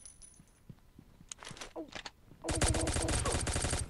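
Rapid automatic gunfire from the mobile shooter game Pixel Gun 3D, a dense loud burst erupting after quieter scattered clicks and taps, sustained to the end.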